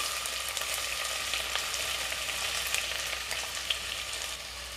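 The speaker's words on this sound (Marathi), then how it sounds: "मी कांदा घातलाय। कांदा चांगला परतून घ्यायचा आहे आपल्याला।" Onion fries in a pan of hot oil with bay leaf for a mutton curry, giving a steady, dense crackling sizzle at close range with no talking.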